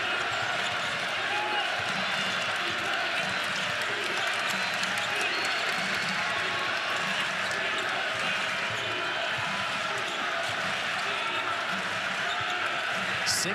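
A basketball arena crowd murmurs and roars steadily during an Oklahoma Sooners versus Vanderbilt Commodores men's game, with ball bounces and sneaker squeaks mixed in and commentators talking over the dense, continuous din.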